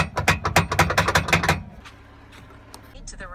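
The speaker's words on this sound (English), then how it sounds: "Trailer hitch is making a lot of noise." A trailer hitch on a vehicle rattles and clanks in a quick, loud burst of metallic knocks that stops after about a second and a half, leaving a low road rumble.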